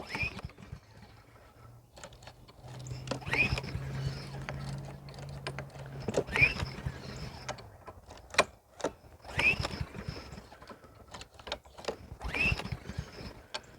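The recoil cord of a Troy-Bilt TB130 lawn mower is pulled again and again at steady intervals, each pull a brief mechanical zip and rattle, and the engine never catches, leaving quiet gaps between attempts.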